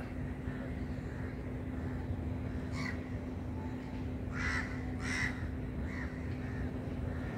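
Crows flying over a rooftop give several scattered caws, some single and some in quick pairs, against a low steady background hum, without anyone speaking.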